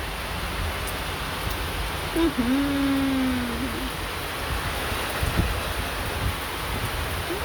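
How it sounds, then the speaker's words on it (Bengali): Steady, dense rain hiss fills the space, with a brief faint tonal whine partway through. "বলতে বলতেই বৃষ্টি এসে গেল"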